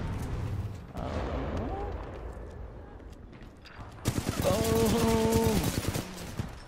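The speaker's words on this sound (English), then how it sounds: "I hear bullets. Where are they coming from?" Gunfire in the shooter video game Titanfall 2 rattles in rapid bursts, swelling into a dense, loud volley in the latter half. Other game effects and a voice sit partly beneath it.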